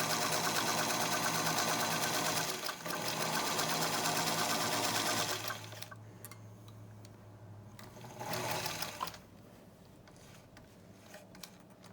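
An old sewing machine stitches a line along taut fabric for a bowl cozy, its steady rapid mechanical whirr running loud for about five seconds, then dropping to a quieter hum with a brief burst of stitching near the end.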